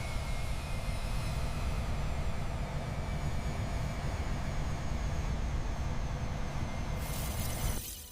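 A steady, dense roar from a Boeing 777 airliner's engines fills the space evenly and loudly, then cuts off abruptly near the end.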